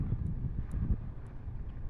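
Steady low rumbling wind buffeting a microphone outdoors on a very windy day while an RC warbird model airplane flies, with brief faint high whines from the plane's motor.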